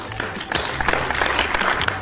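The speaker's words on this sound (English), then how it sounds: "A huge round of applause for her." A short round of applause from an audience, steady clapping at moderate loudness filling the moment with no one talking.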